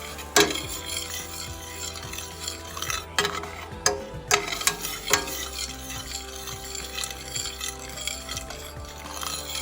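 Chicken saltimbocca pan sizzling as it is deglazed, a close, steady hiss and crackle with sharp metal scrapes and clinks from a utensil working the bottom of the pan, and no voices.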